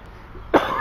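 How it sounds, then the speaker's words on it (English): A single sharp cough from someone with a cold bursts out close by after a quiet stretch, with a little rough breathing trailing after it. "I've been coughing all morning"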